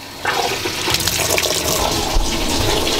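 Water gushes steadily into a washing machine tub through a hose, a loud, close, continuous rushing fill with no talking.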